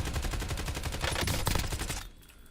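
Rapid automatic gunfire rattles in Call of Duty Warzone, a loud close burst of shots lasting about two seconds before cutting off.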